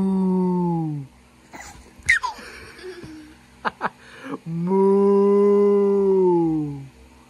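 A voice imitates a cow mooing, with two long, drawn-out low moos separated by a pause filled with faint chuckles and small noises.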